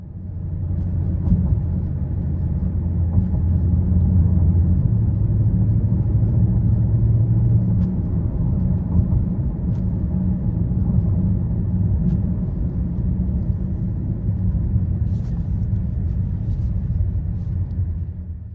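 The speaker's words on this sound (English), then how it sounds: "In Sport Plus, the valves have opened up, and you do notice that driving in Sport Plus compared to Comfort." Steady low engine rumble and exhaust drone from a 2024 Mercedes AMG GLE63s driven in Sport Plus with its exhaust valves open, a continuous loud cabin hum with slight swells and no talking.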